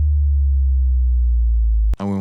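A steady pure sine tone from a Vital synth holds low and loud for about two seconds, its pitch driven by an LFO in envelope mode, before it stops abruptly and a voice cuts in briefly.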